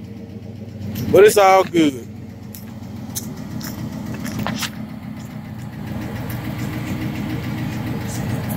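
An off-road car's engine cranks sluggishly for a second before catching and settling into a steady, rough idle, while someone talks over it at times.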